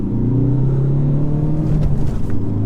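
A 2016 Ford Focus ST-3 diesel accelerating hard toward a corner, its engine drone rising steadily in pitch and loud throughout from inside the cabin.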